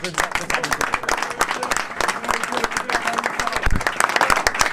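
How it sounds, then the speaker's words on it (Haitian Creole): Audience in a church hall breaks into sustained, dense applause for a father figure after a request for a big round of clapping, loud and continuous with crowd noise throughout. "je demande un gros applaudissement pour papa"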